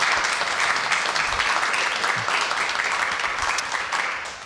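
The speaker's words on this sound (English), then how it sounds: "So if you guys can give them a round of applause," An audience at an artist talk at an arts center gives a steady, loud round of clapping for the artists that continues throughout and fades slightly at the close.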